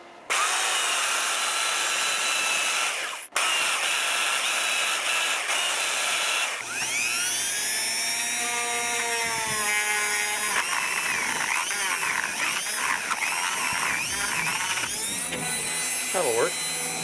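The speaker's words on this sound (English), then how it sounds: "Got quite a bit more sanding to do over here." A power sander whirs loudly and steadily across wood siding by a window, its pitch wavering as it moves across the surface, with a brief cutout partway through.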